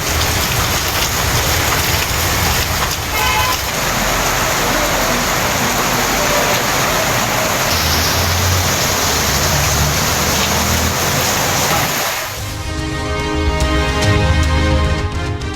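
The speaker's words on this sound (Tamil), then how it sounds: "தமிழ்நாட்டின் பல்வேறு மாவட்டங்களில் கோடை மழை." Summer rain falls steadily in a Tamil Nadu district, a dense, continuous hiss of drops striking surfaces that stays loud throughout, with a faint low rumble of passing traffic underneath.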